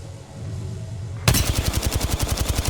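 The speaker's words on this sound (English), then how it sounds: "Listen up, I'm getting shot at." Rapid automatic gunfire from the video game Apex Legends erupts suddenly after a brief low hum and keeps up a loud, steady rattling burst of evenly spaced shots.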